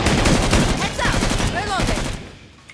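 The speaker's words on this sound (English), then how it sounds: "A lot of recoil in these guns." Rapid gunfire in Killing Floor 2: dense bursts of automatic shots crackle continuously at close range, with warbling game effects mixed in before the shooting tapers off.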